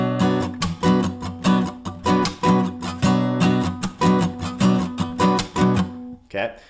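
Funky acoustic guitar strumming with a sharp percussive muted slap on beats 2 and 4, imitating a snare drum, repeating in a steady groove of chord stabs, close and loud, ending with a brief pause.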